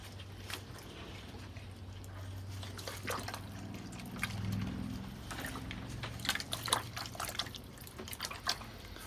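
Water drips and patters irregularly in small splashes from washed hosta roots, fairly quiet, over a steady low hum.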